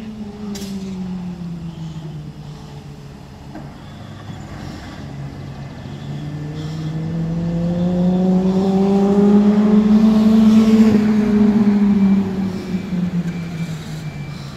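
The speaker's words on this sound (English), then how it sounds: "We also have the Salisbury Red Active 8 just leaving. The Enviro 400." A Salisbury Reds Enviro 400 double-decker bus pulls out of Andover bus station, its engine note climbing gradually and growing louder with rising gear whine before easing off, heard nearby with light background noise.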